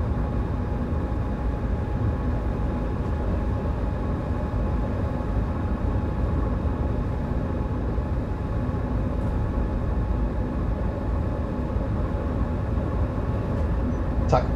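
A Vectron BR193 electric locomotive runs at 200 km/h in the Train Sim World 4 game, producing a steady, loud rumbling drone with constant tonal hum and no break.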